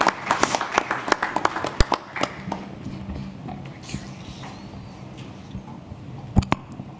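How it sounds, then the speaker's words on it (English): Scattered claps from a conference audience welcoming a minister from Rwanda to the podium, a few sharp claps standing out over a thin patter in a large hall. Talk continues throughout. "A round of applause, please."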